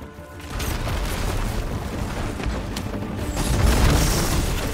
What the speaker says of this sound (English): Can explode this thing.